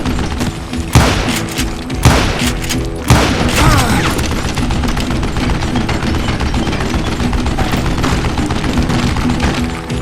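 Rapid gunfire in the Western shooter Call of Juarez Gunslinger, loud dense volleys of shots and booms with heavy impacts early on, rolling on continuously throughout.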